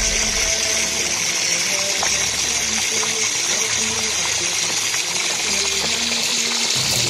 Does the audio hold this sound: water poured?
yes